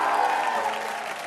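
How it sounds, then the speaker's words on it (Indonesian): A congregation claps warmly during a church gathering, a short burst of dense, continuous applause that stays at an even level and begins to ease toward the end. "berikan tepuk tangan yang paling meriah terlebih dahulu"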